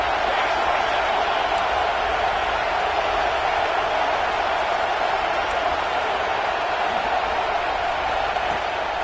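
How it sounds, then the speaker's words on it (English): A home crowd at a college football game in Oklahoma roars steadily on a third-down defensive play, a dense, unbroken wash of stadium noise heard from a distance. "Here comes this home crowd as the defense tries to get off the field on 3rd down."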